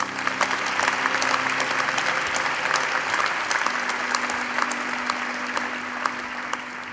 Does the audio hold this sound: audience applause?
yes